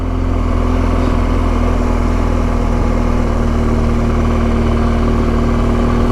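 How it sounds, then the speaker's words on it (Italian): Motorcycle engines drone steadily on the Passo del Vivione mountain pass, a continuous mid-pitched hum with low rumble and no distinct pass-by peak, fairly loud and unbroken throughout. "Ecco altre moto"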